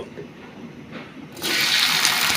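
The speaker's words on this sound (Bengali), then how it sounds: "ঢেঁড়সগুলো আমরা একটু করে বাইজে নিচ্ছি" Okra and chopped vegetables such as carrot go into hot oil in a pan, and a soft background hiss swells abruptly into a loud, steady frying sizzle.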